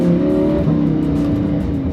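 A Lamborghini Huracan's engine pulls hard under acceleration, a loud close drone with rising and shifting tones, no voices.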